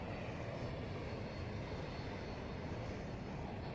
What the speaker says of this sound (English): Is that a jet? Yep, that's a jet.